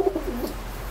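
A single pigeon gives a short, close coo, with a low soft rumble after it.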